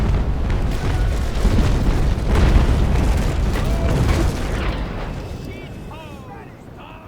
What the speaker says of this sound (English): Cannonballs looking like they're hitting you in the face.